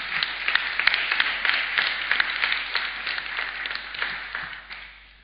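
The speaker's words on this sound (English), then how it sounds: "Please a round of applause for him." A crowd applauds a judge, a legal practitioner based in Abuja, with dense, continuous clapping that stays loud and steady before thinning out toward the end.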